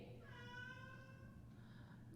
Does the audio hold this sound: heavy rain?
no